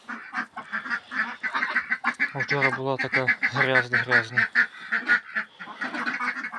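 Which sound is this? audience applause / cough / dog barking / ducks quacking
ducks quacking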